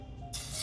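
French toast hits a hot pan, and a sudden bright sizzle bursts in after a quiet moment and holds steady, close and fairly soft.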